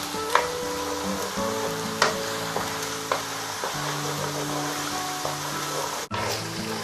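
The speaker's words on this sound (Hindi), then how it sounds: "अब मैं इसमें ये 4 टेबल स्पून लहसुन अदरक का पेस्ट है, ये मैं डाल दूंगा। 2 मिनट के लिए इसको मैं भूनूंगा।" Four tablespoons of ginger-garlic paste frying in a pan on high heat for chicken korma, a steady close sizzle broken by several sharp clinks and stirring knocks, with a low hum beneath.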